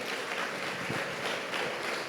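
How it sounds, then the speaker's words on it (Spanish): A church congregation claps together during a Spanish-language sermon, a steady wash of applause filling the whole clip at even loudness without a break. "Dele el aplauso fuerte a Él."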